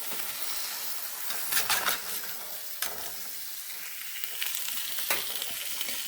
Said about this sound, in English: Go ahead and just Flip them all over here nice and gently because I want to try to keep the yolk intact if I can